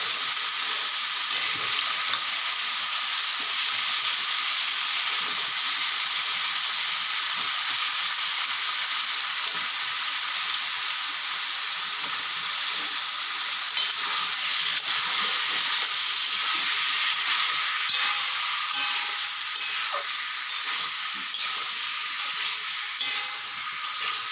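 Potato, eggplant and tomato frying in a cooked spice paste, a dense continuous sizzle with bursts of crackle and stirring toward the end, close and loud with no talk.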